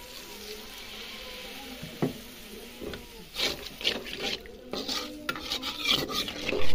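Turmeric, chili powder, salt and tomato get stirred in a nonstick pot for a village-style spicy fish paturi. Irregular scraping and rubbing strokes sound over a soft wet sizzle, growing busier and louder toward the end.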